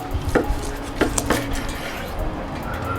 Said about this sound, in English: To cut the ribs. This knife.